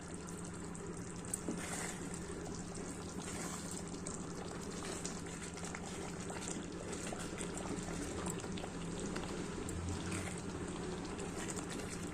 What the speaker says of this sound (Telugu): చూడండి ఉడుకుపడుతుంది పడుతుంది కదా